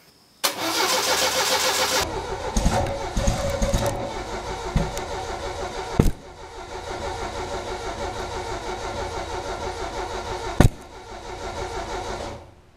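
A Saab Sonett engine cranks and fires up for the first time in 20 years, then runs at a rough, steady idle for several seconds, with a couple of sharp pops standing out near and loud.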